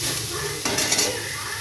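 Dhata shak, stem amaranth greens, sizzle steadily while being stirred in a wok in a village kitchen, with a brief scrape of the spatula against the pan partway through.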